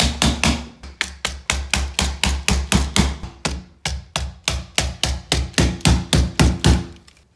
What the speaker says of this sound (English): Go ahead and insert them in the hole you just drilled.